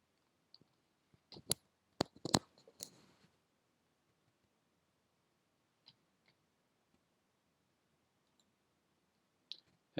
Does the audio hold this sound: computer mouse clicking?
yes